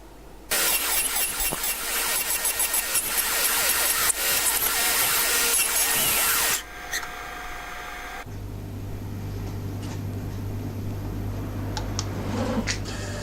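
A small CNC lathe machines a brass fitting for an auto gas system: a loud, dense cutting roar for about six seconds, then a quieter stretch with a steady low machine hum.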